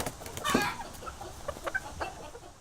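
Backyard hens clucking in a garden, a few short close calls over a quiet outdoor background, with a louder burst early on and softer clucks after.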